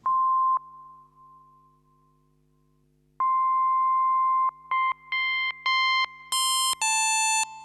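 An FM synthesizer plays tones in short bursts, starting as a pure sine beep and growing progressively brighter and buzzier as frequency modulation is added.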